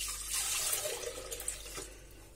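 A litre of milk pours into a container as a soft, steady liquid splashing and gurgling, fairly faint over low background hum.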